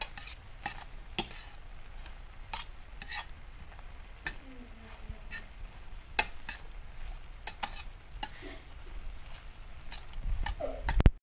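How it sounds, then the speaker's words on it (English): Shrimp sizzling in a hot pan for garlic butter shrimp, stirred with repeated scraping clicks of a utensil over a steady soft crackle, close and moderately quiet, without talk. "i go ahead and stir it around"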